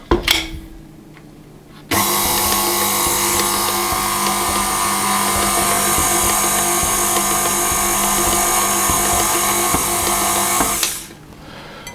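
A stand mixer works very sticky panettone dough in one steady, loud whirring run of about nine seconds, starting abruptly and winding down at the end, with no voices.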